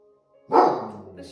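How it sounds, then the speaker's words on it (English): A dog barks sharply once, then the bark trails into ongoing noise during a calm indoor yoga session, with a soft voice present nearby. "even though there's a dog barking"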